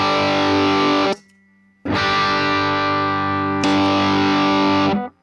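Electric guitar with a distorted drive tone and reverb plays loud sustained chords, three long held strums separated by a short gap, the last ringing out before cutting off.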